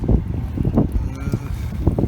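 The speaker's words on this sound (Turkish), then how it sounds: "çok rüzgarlı bir hava" Strong wind roars and buffets the microphone in low, uneven gusts, steady throughout the short stretch.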